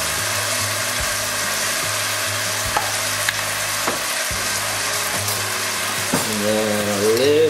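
Duck frying in a pan with soy sauce and ginger, a steady loud sizzle with stirring scrapes and bumps, close and continuous, and a brief voice near the end.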